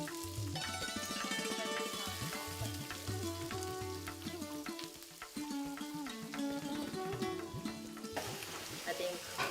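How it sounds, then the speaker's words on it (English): Onions frying in hot oil in a home kitchen, a steady close sizzle running throughout beneath bright tonal music, with occasional stirring scrapes. "Once it's heated up, we need to put the onions."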